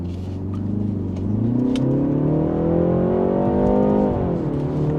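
A 2025 BMW 330i xDrive in Sport mode accelerates with a strong engine note that climbs steadily in pitch through a gear, heard from inside the car, loud and continuous with no talk.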